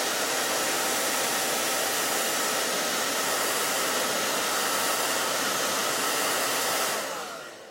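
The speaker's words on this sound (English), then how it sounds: "Blow dryer." A blow dryer blasts steady, loud airflow at eyelashes for several seconds, a full broadband whoosh that fades slightly as it shuts off near the end.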